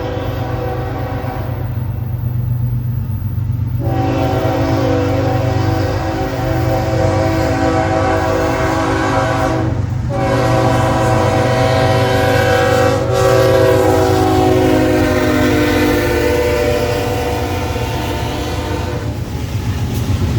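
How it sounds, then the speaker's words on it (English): CSX M585 freight train led by heritage unit CSXT 1973 sounds its horn loudly and at length, with steady rumbling and rail noise from the passing cars underneath throughout. "catch CSX M585 with CSXT 1973 leading"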